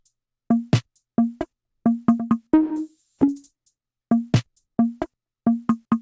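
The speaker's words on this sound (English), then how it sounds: "this is how all the percussive elements sound together" A dry percussion loop plays alone: tonal drum hits, quick clicks and a brief bright shaker burst in a bouncy repeating rhythm.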